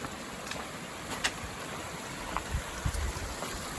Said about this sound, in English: Little tiny mini cascading waterfalls